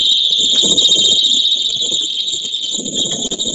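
Integrity horn strobe on a fire alarm system wired to NAC 1, sounding during a system test: a loud, steady, piercing high-pitched tone held unbroken for several seconds, with faint handling noise and shuffling underneath.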